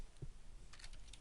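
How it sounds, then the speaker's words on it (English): A short burst of light computer keyboard typing, a few quick keystrokes close by and fairly soft. "So if I start typing"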